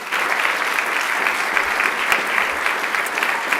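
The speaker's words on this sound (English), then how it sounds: "So we can applaud that." Lively applause fills a legislative assembly floor session, a steady wash of clapping from the chamber audience with faint crowd murmur beneath it.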